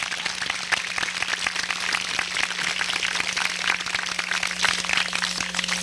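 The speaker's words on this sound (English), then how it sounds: "Can we give them a round of applause?" Steady crowd applause from an audience at a community Crooked Billet Day school ceremony honoring local school officials, a dense even patter of many hands clapping throughout without pause.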